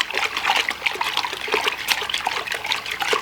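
Water being stirred by hand with dissolved horn manure and barrel compost for biodynamic preparations, a continuous swishing and trickling with small splashes, close and steady.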